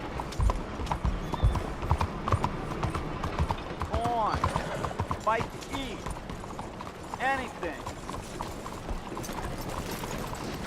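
Horse hooves clop steadily on hard ground in Red Dead Redemption 2, beneath a voice speaking, with faint ambient noise and occasional mechanical clicks.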